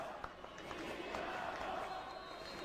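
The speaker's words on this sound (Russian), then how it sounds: "Кричат сейчас Динамо, Динамо, болельщики верят они в Житникова." Dynamo Barnaul supporters at a hockey match chanting the team name, a distant, rhythmic crowd roar blended with arena noise and a commentator's voice over it.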